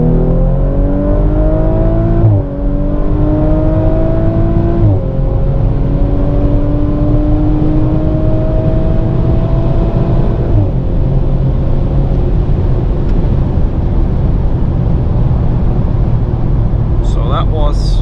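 An Audi RS5 accelerating hard in gear, the engine note climbing loudly through several upshifts with brief dips between gears, a heavy roar heard from inside the cabin.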